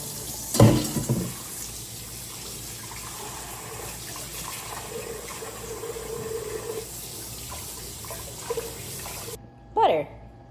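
Homemade butter being rinsed and squeezed under a running kitchen tap, a steady close stream of water with a couple of brief louder splashes and a person speaking over it.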